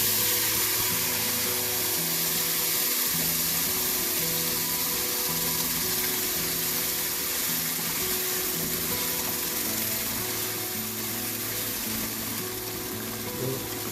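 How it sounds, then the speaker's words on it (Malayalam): Marinated chicken frying in hot oil for a home-style chicken curry, a loud continuous sizzle and crackle with some stirring and clinking of utensils, no talking. "അത് എണ്ണയിലൊന്ന് ചൂടായി കഴിയുമ്പോൾ നമുക്ക് ഈ മാരിനേറ്റ് ചെയ്ത് വെച്ചേക്കുന്ന ചിക്കൻ ഇട്ട് കൊടുക്കാം"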